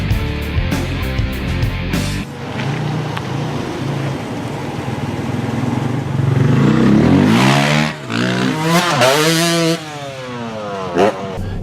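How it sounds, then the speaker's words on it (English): A 2013 Dodge Durango or Chevy Traverse SUV drives off-road through mud, its engine running loud and close with a sustained drone, then rising and falling revs in the second half, alone without talk. "The engine sounds great."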